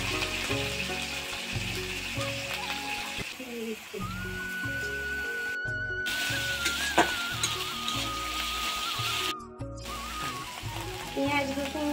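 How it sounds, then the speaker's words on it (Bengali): Onion and garlic paste frying in oil with bay leaf and dried chilli in a home kitchen, a steady sizzle running under a voice speaking throughout, with a couple of brief pauses. "পেঁয়াজ রসুন ভাজা হয়ে গেছে"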